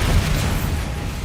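A Bombarda spell explosion in the Hogwarts Legacy video game, a short, loud, dense burst of booming noise with a heavy low rumble.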